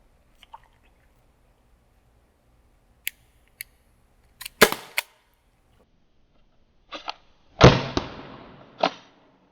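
Several sharp pops from a Byrna HD launcher fired at a target outdoors, a handful of distinct bursts spaced seconds apart with quieter clicks between, fairly loud and close, no talking.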